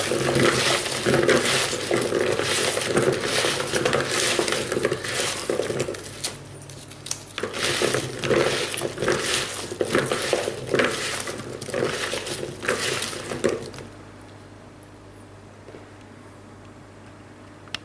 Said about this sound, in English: give them a good old mix with your hands